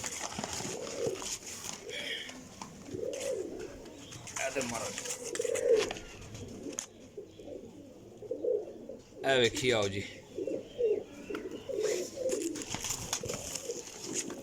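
Golden pigeons in a loft coo in soft repeated bursts, close and moderately loud, with someone talking over them and brief rustling and flapping.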